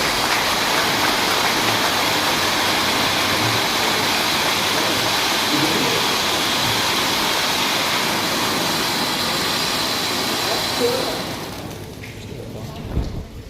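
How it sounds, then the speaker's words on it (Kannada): Sustained crowd applause at an engagement ceremony, a loud, thick roar of many hands clapping that holds steady, then thins and fades out near the end. "give an applause."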